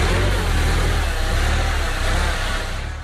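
Forklift truck engine running steadily at close range with a low, continuous rumble that rises slightly as it drives and then eases off while parking, with no talking over it.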